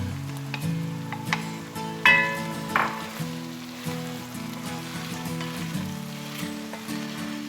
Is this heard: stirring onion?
yes